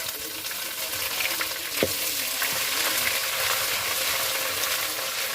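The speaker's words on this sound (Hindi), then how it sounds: "अभी जी प्याज डाल दिया गया जी तड़के के लिए और अच्छी तरह इसको सुनहरा होने तक भून लेंगे" Chopped onions and ginger fry in a pan for a saag tempering, making a steady, moderate sizzle with one brief utensil knock partway through.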